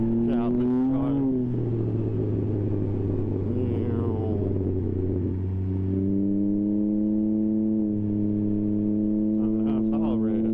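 A car engine revs hard through its muffler, a loud, steady low drone whose pitch climbs and falls in sweeping surges across the whole clip.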